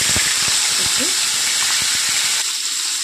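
A large onion hits hot caramelized sugar and oil, setting off a loud, continuous sizzling hiss with scattered crackles and clatters from stirring, then the sizzle settles toward a steadier hiss near the end.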